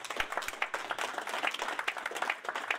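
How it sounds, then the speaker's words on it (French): A small group claps in honour of friends at a political party launch, with irregular individual hand claps at moderate distance, fairly quiet and uneven rather than a full ovation. "Nous allons applaudir pour eux."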